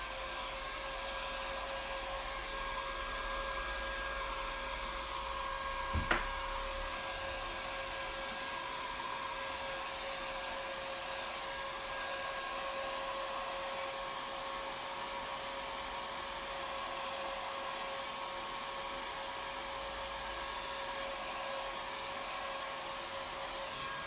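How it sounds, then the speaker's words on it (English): A blow dryer runs steadily throughout, a constant whirring roar with a brief knock partway through, close and unchanging. "Let me hit this with a blow dryer."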